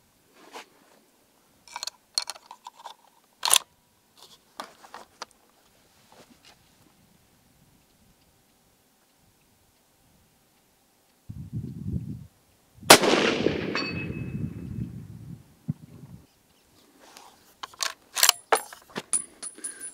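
Impact LA Evolution rifle firing lead-free ammunition: one sharp, loud shot with a decaying rumble, set among scattered small handling clicks and rustles before and after.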